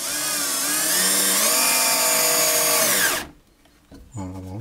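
Screws being driven to mount a Oneway Wolverine sharpening kit onto an old Parkside bench grinder, a close, loud, whining power-driver run of about three seconds, then a pause and a brief second burst.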